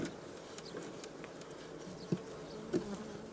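Quiet, continuous buzzing of a honeybee swarm fills the air, with a few brief louder taps and knocks close by.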